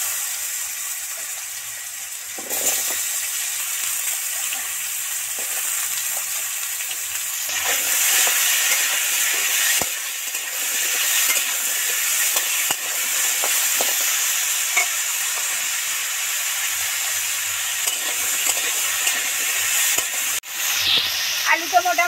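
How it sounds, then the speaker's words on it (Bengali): Chopped potato pieces frying in salted oil, a steady hissing sizzle lasting throughout, with intermittent stirring scrapes and a few sharp clicks of a spatula against the pan. "আলু তো মোটামুটি ভাজা ভাজা হয়ে এসছে"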